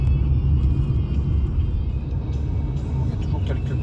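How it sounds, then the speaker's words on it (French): A car being driven, a steady loud low rumble of engine and road noise from inside the cabin throughout, no talk. "cette fois-ci on a pris la voiture et on y va."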